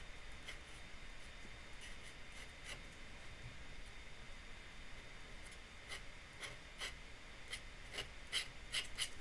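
Quick, loose pencil sketching in a sketchbook makes a faint, steady scratching and rubbing, with short brighter strokes growing more frequent toward the end.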